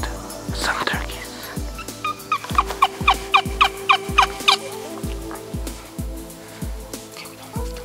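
Wild turkeys gobble again and again in rapid, rattling bursts during a spring hunt, loud and fairly close, with a low thumping rhythm running underneath and faint whispering between calls.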